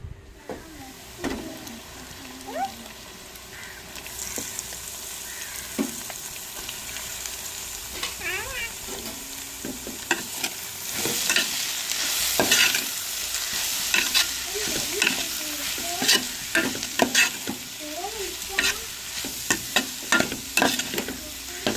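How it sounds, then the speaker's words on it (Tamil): Fish puttu is stir-fried with sautéed onions in a pan, giving steady sizzling and frying with repeated scraping stirs of a spoon against the pan for about twenty seconds. "வெங்காயம் வதங்கி வந்துருச்சுங்க நம்ம விரைய வச்ச மீன் புட்டையும் சேர்த்துக்கிறோங்க"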